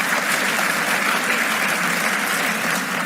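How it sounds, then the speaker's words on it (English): Conference audience bursts into warm, sustained clapping for Jan, a dense and even roar of hands that stays loud for the full three seconds. "So round of applause for Jan."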